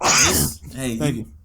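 A single sharp sneeze close to the microphone during a sports podcast recording, brief and loud, followed by a voice.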